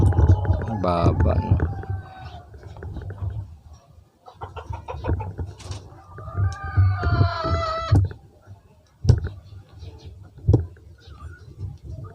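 A rooster clucks and crows repeatedly at close range in several bursts, with someone talking in between and over the calls.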